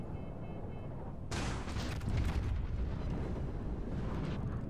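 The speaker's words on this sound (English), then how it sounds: "And it involves artillery." Naval artillery in World of Warships, a deep, booming salvo that erupts suddenly and rolls on with loud, dense rumbling, close and overpowering.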